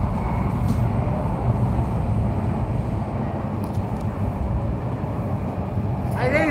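Subway train rumbling, a steady low heavy roar that fills the whole stretch at close range, with brief faint sounds on top near the end.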